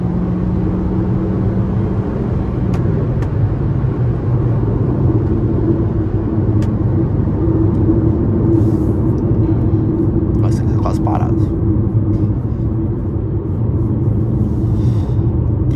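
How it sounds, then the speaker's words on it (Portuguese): Continuous loud interior road rumble of a 2023 Jeep Renegade 1.3 turbo overtaking at speed, with a low steady drone and faint ticks, as the car moves fast. "Passa muito rápido esse carro."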